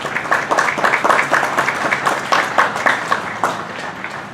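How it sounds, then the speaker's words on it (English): An outdoor Memorial Day ceremony crowd gives a modest round of applause, individual claps fairly distinct and rhythmic, moderately loud and tapering off near the end. "Let's give Jerry and the Elks a nice round of applause."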